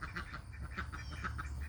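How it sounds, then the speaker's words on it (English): A duck quacks in a quick run of about eight short nasal calls, moderately close against a faint background hum. "sorry, that duck was being weird"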